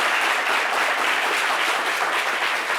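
A live studio audience applauds, a steady, dense wash of clapping that holds evenly loud for the whole stretch with no talk over it.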